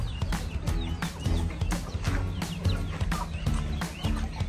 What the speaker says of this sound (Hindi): ये सिल्की हैन है, इसको बोलते हैं सिल्की हैन